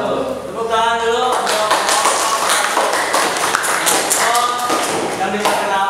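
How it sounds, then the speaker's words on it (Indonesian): Students' audience applauding at a school project presentation, a dense burst of hand claps with voices talking and calling out over it throughout. "Tepuk tangan dulu."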